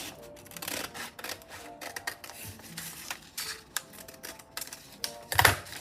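Scissors snip a rectangle out of a folded sheet of paper for a craft, a string of quick, close, crisp cuts and rustles that ends in a louder burst of paper handling.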